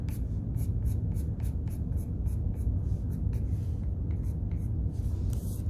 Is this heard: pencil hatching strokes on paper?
yes